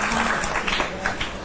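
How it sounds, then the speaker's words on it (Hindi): A brief burst of clapping from a group, heard alongside talking voices, lasting only a moment. "तालियां तालियां।"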